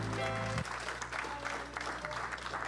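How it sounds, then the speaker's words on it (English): A church congregation claps together during a Sunday service, a brief sustained burst of many hands following a fading held organ-like tone, with faint voices mixed in. "Let's just give God one more hand clap real quick."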